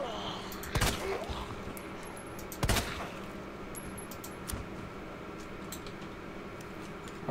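Gunfire in Resident Evil 2 Remake: two sharp, isolated shots a couple of seconds apart, loud against a quiet, hissing ambience with faint ticks between.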